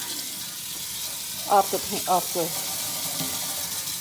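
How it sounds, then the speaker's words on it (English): Tap water runs steadily into a farmhouse sink over corn in a strainer, a continuous hiss and splash close by, with brief speech over it. "we're gonna just let the water run on this corn"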